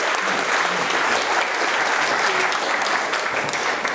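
An audience at a Lean Startup Melbourne pitch event applauds after a startup presentation, dense continuous clapping that stays loud and steady throughout.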